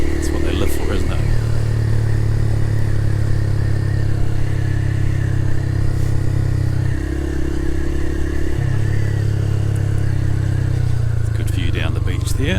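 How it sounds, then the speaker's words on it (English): Yamaha YS125 motorcycle with a grunty exhaust, a steady low engine drone that steps between gears as it rides, loud and close, with brief clatter at the start and end. "people with multi-million-dollar houses love a little bike with a nice grunty exhaust"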